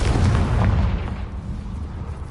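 A Confringo fire spell exploding in Hogwarts Legacy, a deep booming blast that rumbles loudly at first and then fades into a lower, lingering roar.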